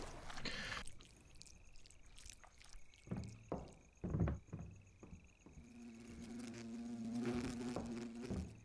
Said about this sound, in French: C'est quoi ce bruit de mouche